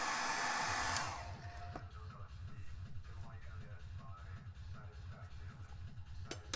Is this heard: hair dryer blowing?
yes